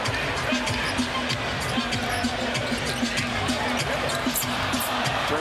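Basketball dribbled on an NBA court amid crowd noise, repeated bounces sounding at a steady rhythm beneath a constant arena roar.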